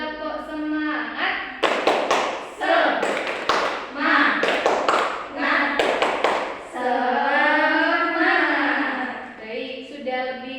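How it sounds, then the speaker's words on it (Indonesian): A class claps a rhythmic spirit clap together in a classroom, sharp group claps in quick patterned bursts alternating with a teacher's voice leading between them. "mari kita tepuk semangat bersama terlebih dahulu ya"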